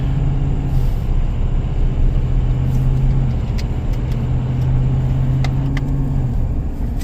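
Pickup truck towing a Texas Pride 30K gooseneck trailer on the road, a steady loud engine drone and tire rumble with no voices.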